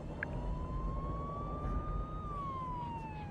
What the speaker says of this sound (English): The sound of an approaching police siren interrupts the argument